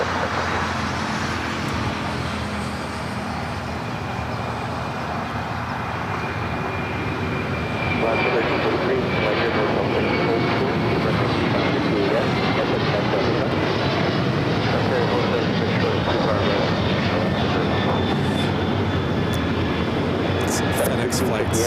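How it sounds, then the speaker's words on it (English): A Boeing 767 rolls down runway 25 right at LAX, its engine roar building from a steady rumble into a louder, dense wash of noise that holds to the end, with voices talking over it. "767 now rolling down to 25 right."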